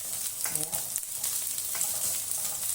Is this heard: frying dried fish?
yes